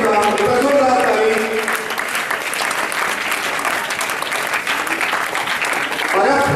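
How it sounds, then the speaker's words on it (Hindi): Loud, dense applause from a theatre audience at a drama festival event, sustained steadily for several seconds with a few voices mixed in. "जोरदार ताली"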